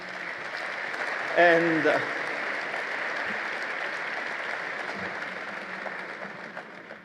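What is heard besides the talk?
audience applause at a congress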